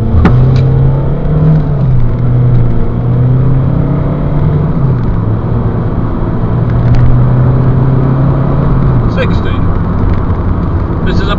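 A 2005 Ford Mondeo 2.0 TDCi Ghia X estate diesel accelerates hard from rest on a slightly wet road, its engine drone loud and close, rising through gears with brief dips at shifts.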